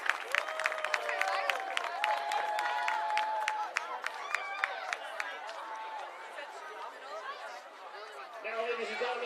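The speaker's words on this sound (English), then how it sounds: "Nice round of applause, ladies and gentlemen, for our parents and our seniors and our high school cheer team" Crowd applause and cheering in the stands at a high school football game, honoring parents, seniors and the cheer team at Ripon High School; dense, sustained clapping with chatter and voices mixed in, steady throughout.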